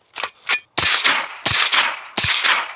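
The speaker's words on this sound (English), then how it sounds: "Let's send some rounds down range, kind of tell these guys what it's like." A suppressed PSA pistol fires five shots at an outdoor range, two quicker sharp cracks followed by three louder, spaced reports, each with a brief trailing echo.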